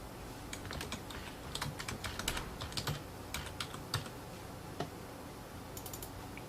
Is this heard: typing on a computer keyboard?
yes